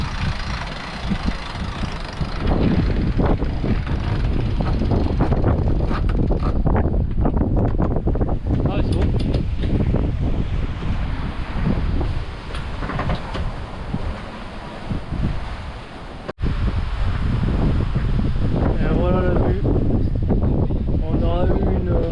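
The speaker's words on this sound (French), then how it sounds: "il y a des rafales qui montent jusqu'à 18-19 nœuds là en bas" Strong wind rushes and buffets the microphone continuously aboard a sailboat heading from Saint Lucia toward Saint Vincent and the Grenadines in gusts of 18–19 knots, with an engine-like drone underneath and a brief dip in the roar partway through.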